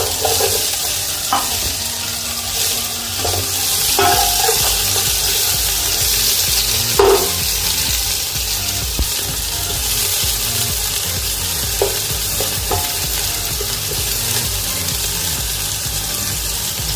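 Steady sizzling of garlic frying in hot oil for a bottle gourd dish, with occasional soft clinks and stirring sounds, close up and moderately loud.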